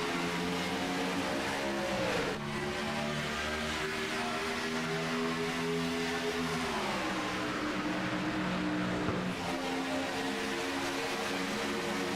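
Pack of stock cars racing at Talladega in a video game heat, engines droning loudly and continuously with rising and falling pitch as the field roars past, no talk.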